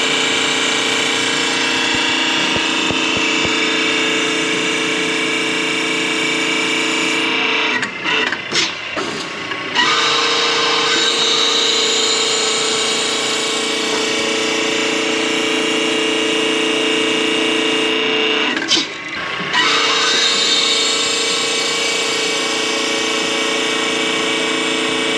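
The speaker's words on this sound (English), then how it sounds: "We're going to press these bearings on the pinions" Bearings are pressed onto the pinion gears of an 8.75 rear end in a shop, a steady mechanical grinding and whirring drone with rhythmic ratcheting that runs continuously, dipping briefly twice.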